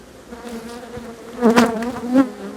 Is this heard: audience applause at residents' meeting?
no